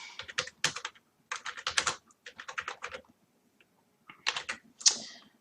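Fingers typing on a computer keyboard in short rapid bursts of clicking keystrokes separated by brief pauses, close and clear, ending with a sharper single tap.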